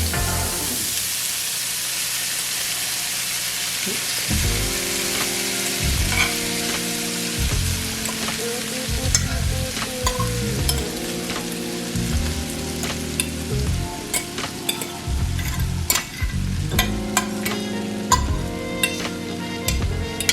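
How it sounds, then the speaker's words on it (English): Diced onions, peppers and corn fry in a hot skillet with a steady bright sizzle, broken by repeated scraping and stirring clatter, close and fairly loud with no voices. "I'm ready to now add this to my hot skillet"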